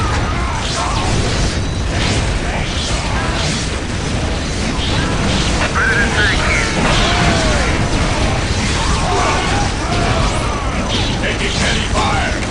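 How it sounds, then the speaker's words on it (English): Heavy weapons fire in the Warhammer 40k Dawn of War strategy game: a dense, continuous barrage of booms, pops and mechanical clatter, with battle effects layered throughout and faint voices underneath. "Taking heavy fire."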